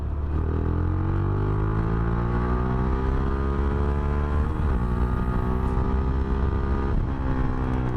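A Motorstar Explorer 250 v2 motorcycle engine revs up steadily and shifts from first into second gear, its pitch climbing, dropping at the shift, then rising again. The loud, continuous engine note runs close and alone.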